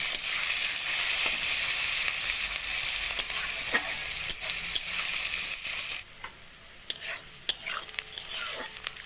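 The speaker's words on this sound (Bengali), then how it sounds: "এবার কুচানো পেঁয়াজগুলো দিয়ে দেবো পেঁয়াজটা দিয়ে আমি হালকা ভেজে নেব" Chopped onions fry lightly in a pan, first with a loud, dense sizzle. After a few seconds it thins to a quieter fry broken by sharp spatula scrapes and clinks against the metal.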